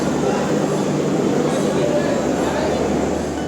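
Loud, steady rumble of a moving local train with continuous clatter and murmuring voices in the background, heard from inside a carriage.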